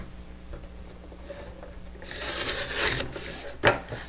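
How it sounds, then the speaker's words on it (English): Scissors or a blade rasp through the cardboard top of a small square tissue box, a scraping, rubbing cut that grows louder midway and ends with a sharp close snip, with faint background hum. "the first thing I'm going to do is cut the top of my tissue box"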